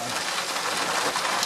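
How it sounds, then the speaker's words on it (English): Heavy monsoon rain pours down steadily outdoors as a dense, even hiss, filling the whole stretch at moderate loudness with no voices. "it has been raining now non-stop about 15-20 minutes"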